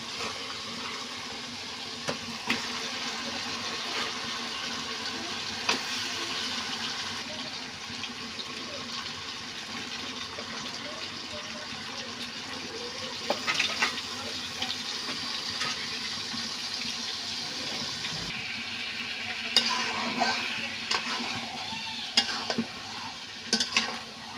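Meat is stir-fried with spices in oil for biryani, a continuous moderate sizzle with scraping stirs and occasional clinks of the spoon, and a few louder clattering moments near the end.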